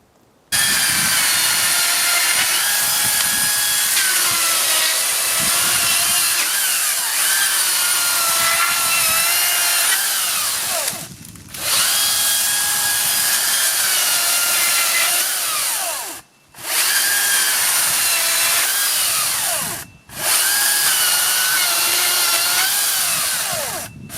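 A Makita chainsaw plunge cuts into wood at full throttle, a loud, continuous high-pitched engine whine broken by three brief drops in load as the bar pulls out and bites back in, with no talking.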